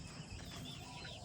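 Hens on a small farm flock of about 28 birds, including Rhode Island hens, clucking and murmuring softly and continuously, faint and diffuse amid steady background noise, with no clear single calls standing out.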